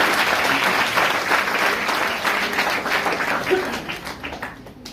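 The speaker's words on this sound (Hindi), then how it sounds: "जोरदार ताली बनता है" Loud applause from an audience at a career training session, a dense burst of clapping that is strongest at first and tapers off over several seconds.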